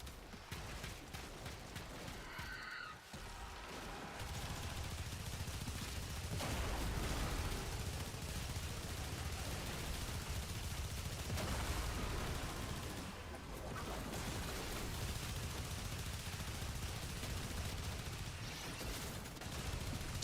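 Sustained automatic weapon fire in the video game Warframe during a boss fight, a dense, continuous rumbling barrage with brief gaps, fairly loud and steady throughout.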